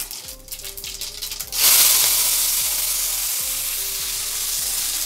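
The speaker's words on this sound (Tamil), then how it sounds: "அடுத்தது கருவேப்பிலை கொத்தமல்லி போட்டுக்கலாம்." Curry leaves and coriander tossed into hot oil already crackling with mustard seeds and cumin, bursting into a loud, sustained sizzle after a moment of quieter popping, close and without speech.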